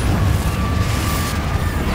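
The Confringo explosion spell going off in the video game Hogwarts Legacy, a loud, deep boom with a rumbling burst that fades into a low roar.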